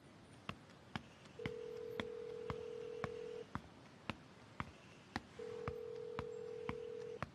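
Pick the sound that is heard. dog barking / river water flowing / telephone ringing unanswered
telephone ringing unanswered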